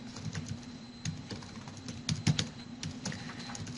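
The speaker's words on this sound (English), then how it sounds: "You can type a document." Someone typing a document on a computer keyboard, with quick irregular key clicks, close and fairly quiet, in a steady burst.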